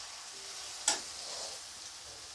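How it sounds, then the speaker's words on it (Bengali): Onion and garlic fry in oil in a pan with a soft, even sizzle, broken once by a single sharp tap of the stirring utensil against the pan, then a steady hiss again. "পেঁয়াজ রসুনটা নাড়িয়ে দিচ্ছি, এখনো পর্যন্ত কিন্তু লাল হয়নি।"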